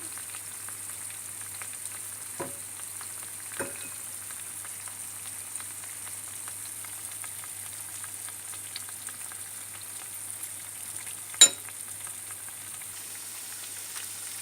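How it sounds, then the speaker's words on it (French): Tofu and soya nugget pakodas fry in hot oil over medium heat, giving a steady, faint, even sizzle, with a few soft clicks and taps scattered through it. "So while the tofu is being fried on medium heat"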